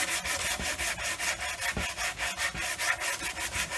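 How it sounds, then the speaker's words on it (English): Steady back-and-forth strokes of 100 grit sandpaper rubbed over a mahogany guitar neck while thinning it, a rhythmic rasping scrape repeating about four times a second, close and continuous with no talking. "Okay, again, I'm just going after it with 100 grit sandpaper."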